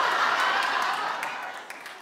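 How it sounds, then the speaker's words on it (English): Studio audience clapping together, a dense burst of applause that starts loud and gradually fades over a couple of seconds. "Clap if you would."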